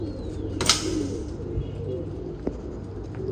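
Pigeons cooing in a loft or coop holding fourteen birds of one type, low soft calls repeating under steady background noise, with a brief sharp clatter near the start and a few small knocks.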